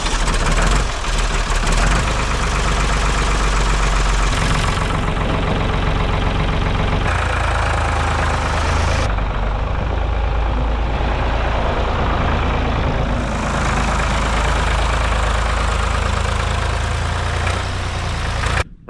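A Ford 4000 tractor engine running after a boost from a battery booster on a very cold day, a loud, close, steady rumbling idle that holds throughout.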